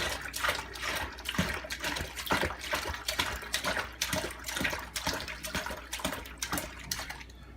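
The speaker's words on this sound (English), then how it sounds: "you can take that sanitizer, pour it in the bowl for the funnel" Sanitizer solution is poured into a bowl holding a funnel and homebrewing gear, a faint, uneven splashing and gurgling of liquid with no talking.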